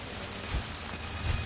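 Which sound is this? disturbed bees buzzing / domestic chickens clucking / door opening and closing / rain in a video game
rain in a video game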